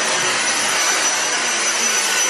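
A new Dyson vacuum cleaner runs steadily and loudly, a continuous broadband whooshing roar with a faint high whine, unbroken for the whole stretch and with no talking.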